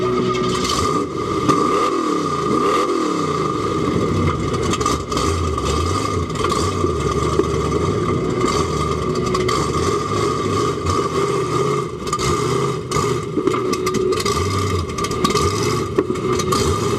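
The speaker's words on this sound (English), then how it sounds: "Sounds like Romanini's having a little bit of trouble keeping the Livewire Chevy running today." A heavy Chevy off-road 4x4 truck engine drones and revs unevenly, struggling to keep running, with rough clattering and scraping noises, steady and loud throughout.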